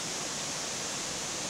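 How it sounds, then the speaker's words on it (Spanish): A waterfall surrounded by banana trees, passed on a trail returning from Irazú volcano. It gives a steady, dense rushing hiss of falling water that stays even and close, with no voices. "aquí estamos pasando por una cascada bien bonita que está adornada de árboles de plátano o guineo"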